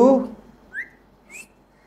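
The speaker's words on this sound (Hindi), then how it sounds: "सीटी मारता है बहुत प्यारी प्यारी" A pet parrot whistles two short rising notes, the first near the middle and the second near the end, following a brief burst of a voice at the start, indoors at close range.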